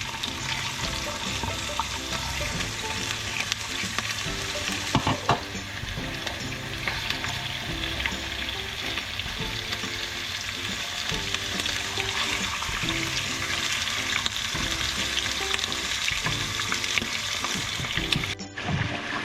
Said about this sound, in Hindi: और उसको इतनी देर फ्राई करेंगे चिकन को कि उसका कलर आ जाए।